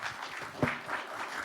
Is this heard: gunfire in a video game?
no